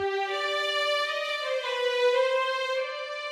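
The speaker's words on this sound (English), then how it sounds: "Second violins sound like this." A second violin section plays smoothly connected legato sustained notes, sliding gently from one pitch to the next, bright and steady with no pauses.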